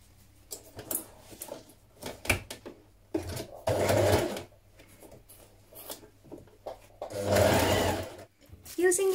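A sewing machine stitches a knit Marlow sweater in short mechanical bursts, with a steady low hum underneath and two louder runs of stitching between pauses, while a voice talks in between.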